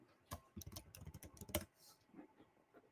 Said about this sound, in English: let me start typing y'all names in here